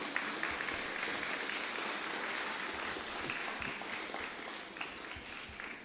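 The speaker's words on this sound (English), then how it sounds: "Yes, you can give him a round of applause." A cadet force audience at a Jamaica Combined Cadet Force service claps steadily for about six seconds, honouring a long-serving officer with a sustained, moderately distant round of applause.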